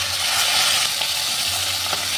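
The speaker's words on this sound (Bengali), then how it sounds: "এবার আমি মাছগুলোকে একে একে মাছগুলো ছেড়ে ভেজে নেব।" Tilapia fish fried in hot oil, a steady, loud broadband sizzle and crackle that runs throughout without any voices.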